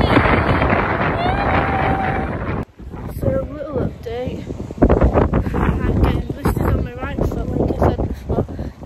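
Loud, gusty wind on a mountain buffets the microphone with broadband rumble, and a person talks through it for most of the clip.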